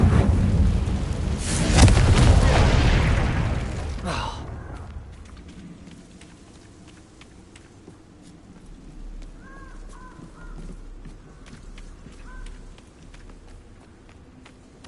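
In Hogwarts Legacy, spell blasts from Bombarda and Confringo burst out as a loud rumbling explosion that fades over a few seconds, leaving quieter game ambience with occasional caw-like calls.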